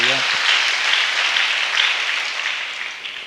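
A church congregation claps during a Malayalam sermon, a dense, steady wash of hand claps that stays loud throughout before easing slightly toward the end, with a brief voice at the start.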